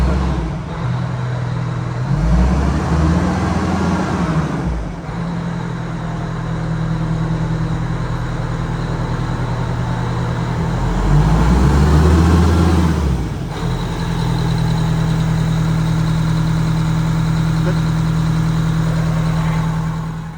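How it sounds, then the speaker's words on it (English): A Prevost bus diesel engine idling steadily close by, then revved a few times with two distinct rises and falls in pitch before settling back to a low idle rumble. "rev it up a little bit a few times"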